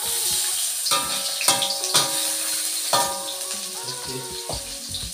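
Chicken liver and gizzard hit hot oil in a pan, a bright sizzle with spattering bursts and some clinking, while a voice speaks briefly at the start.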